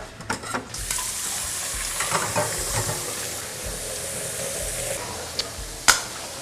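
Chicken being stir-fried in a pan for Thai drunken chicken, a steady close sizzle with scraping spatula strokes and clanks, plus a sharp metallic hit near the end and no talk.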